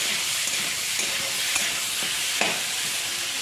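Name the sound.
sautéing vegetable curry with ginger, cumin and green chilli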